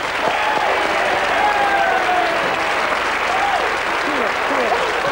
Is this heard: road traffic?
no